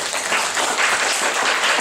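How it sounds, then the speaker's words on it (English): A forum audience applauding a speaker, Dr. Lu, at a civic leadership event in Ohio: a dense, steady wash of many hands clapping, loud and close, with no voices over it. "Let's give Dr. Lu another big round of applause, please."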